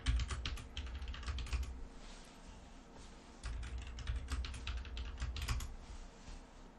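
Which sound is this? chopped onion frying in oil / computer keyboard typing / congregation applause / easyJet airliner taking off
computer keyboard typing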